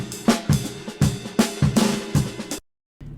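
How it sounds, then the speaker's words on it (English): Original drum break sample looping with punchy kicks, snares and bright cymbal hits in a steady groove, loud and upfront, stopping abruptly near the end before a short restart. "Here's the original drum break."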